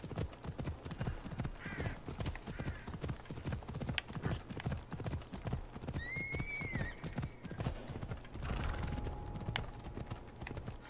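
An undead flaming horse in Assassin's Creed Odyssey gallops with a quick, steady clip-clop of hooves up close, broken by a couple of whinnies, all under someone speaking.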